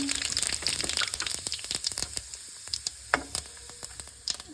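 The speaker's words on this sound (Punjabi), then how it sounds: "ਹੁਣ ਆਪਾਂ ਲਾਈਏ ਤੜਕਾ" Whole spices such as black pepper and green cardamom sizzle in hot oil as a tadka for chana palak, with dense close crackles and pops that ease off slightly toward the end, and no talk.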